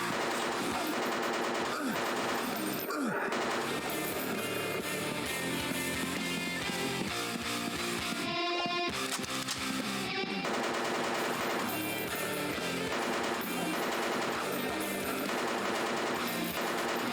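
Rapid video game machine gun fire rattles in long bursts, layered over loud, dense music with barely a pause.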